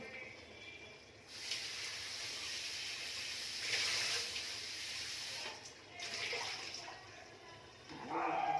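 Potatoes are washed in water, a continuous splashing and rushing of water that swells and eases, with some sloshing near the end, moderately close.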